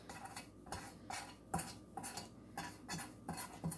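Softened butter is spread into a metal madeleine pan, producing a series of soft, regular scraping and tapping strokes of a utensil against the tin, quiet and close, with no speech.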